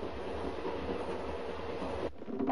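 Moving train rumbling steadily, a dense, loud broadband roar with rail noise throughout, briefly easing near the end, with no talk.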